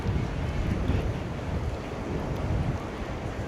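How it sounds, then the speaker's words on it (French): Steady, loud wind rushes and buffets against the microphone, a continuous low roar with no voices. "Vous voyez, il y a du vent,"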